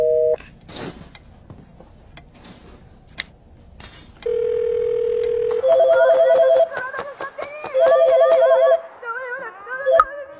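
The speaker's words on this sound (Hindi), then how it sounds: "वो एक्चुअली फोन अभी कट हो गया" Telephone tones after a call is cut off: a steady flat tone comes in, then rises into pulsing, warbling electronic tones that repeat in bursts, loud and close, with brief clicks and handling noise before it.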